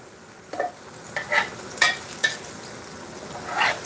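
Plantain slices fry in oil in a pan, a steady soft sizzle broken by several close scraping clicks as the pieces are turned over, with no speech.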